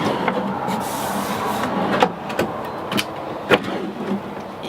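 A drawer in a 2019 Coachmen Galleria 24FL RV kitchen slides and bumps through a few soft rolling runs and light knocks, close by, with quiet room noise between.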